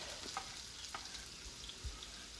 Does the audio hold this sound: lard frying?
yes